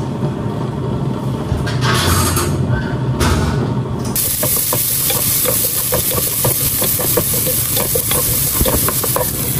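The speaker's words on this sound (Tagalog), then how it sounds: "Magpapainit na po ako ng mantika para makapag-isa na po tayo ng bawang at sibuyas." Oil heating in a pan to sauté garlic and onion for bola-bola sotanghon, a close sizzle that turns louder and crackly partway through, with repeated scraping and clicking stirs over a constant hiss.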